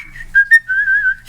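A man whistles a short tune up close, a clear pure tone that opens with a few brief notes and settles into a long wavering held note, with no other sound around it.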